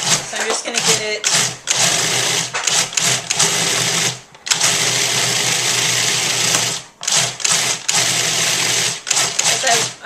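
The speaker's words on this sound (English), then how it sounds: "I'm going to blend it in to the dates" A blender whirs loudly in long bursts, blending dates with liquid into a creamy chocolate truffle mixture, with brief pauses between pulses.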